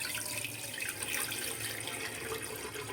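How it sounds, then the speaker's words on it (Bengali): Water poured into a frying pan, a steady hissing, splashing rush heard close up and alone for a few seconds. "পরিমাণ মতো পানি দিয়ে দেব।"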